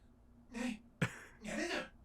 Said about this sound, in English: Is he coughing up a hairball?